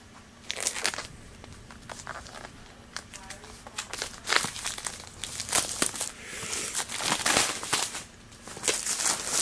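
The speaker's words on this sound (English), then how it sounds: "Let me just take the shrink wrap off of" Crinkly plastic shrink wrap being peeled off an Apple TV box and crumpled in irregular bursts, close by, with scattered sharp crackles and tearing sounds.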